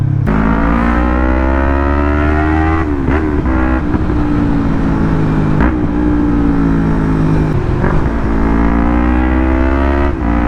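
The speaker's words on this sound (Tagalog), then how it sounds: "mas smooth ang iyang shifting, and then mas nice iyang acceleration" A Yamaha MT-03 motorcycle accelerating hard, its loud engine note climbing in pitch through several gears, with a brief dip at each shift, close and continuous.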